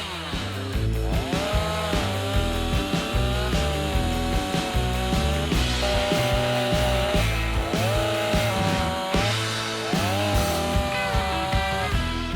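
A STIHL MS 182 petrol chainsaw with a 40 cm Light 04 bar and 61 PS3 Pro chain cuts through wood, its engine revving up and bogging down in repeated loud, close bursts.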